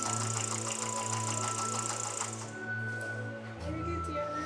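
Sewing machine stitching a skirt seam, a steady mechanical whir with a low motor hum and fast needle ticking that runs continuously, easing slightly toward the end.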